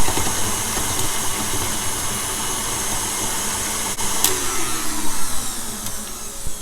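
An electric mixer creams cream cheese and softened butter together, giving a steady, loud motor whir that runs throughout without pause.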